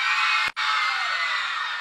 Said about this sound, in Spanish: Aplauso para el otro gemelo.